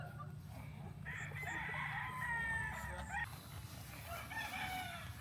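Roosters crow at a chicken farm, one long drawn-out call after another from birds at a moderate distance over a steady background hum, with faint clucking mixed in.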